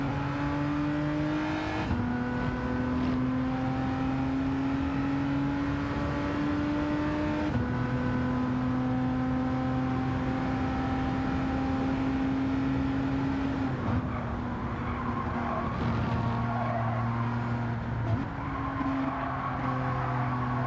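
Gr.4 race cars lap Suzuka in Gran Turismo 7, with a loud, continuous engine drone whose pitch climbs steadily and then drops at each gear shift, while other cars close in from behind.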